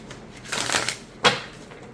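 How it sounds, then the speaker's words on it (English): A tarot card deck is riffle shuffled up close with a rapid fluttering burst of card clicks, then a quick sharp snap as the cards bridge back together. "I can riffle shuffle the deck"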